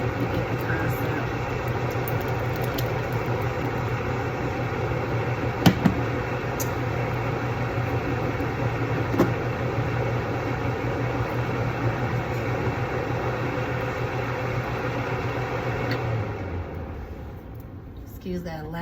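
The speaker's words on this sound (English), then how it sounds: "Excuse that loud fan." A loud fan drones steadily in a home kitchen for nearly twenty seconds, a constant whirring hum with a few faint clicks, fading slightly near the end.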